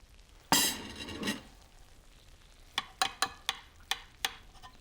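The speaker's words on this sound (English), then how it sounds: "I can hear this sizzling. It sounds sensational." A gratin sizzling in a hot pan, a loud crackling burst early on followed by a series of sharp clicks and taps near the end.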